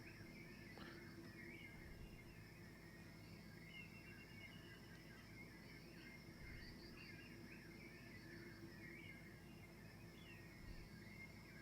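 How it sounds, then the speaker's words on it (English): Looped bird call sound effects chirp and twitter repeatedly over a faint, constant hiss, the calls quiet and evenly spread throughout. "used a lot of individual bird call sounds and is looping through them"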